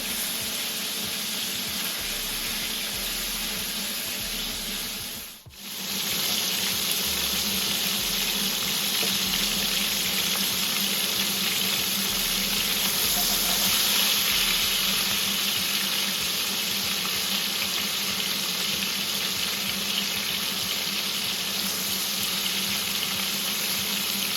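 Minced meat patties browning in a frying pan make a loud, dense, continuous sizzle with a hissing, watery texture, dipping for a moment once before resuming, no voices.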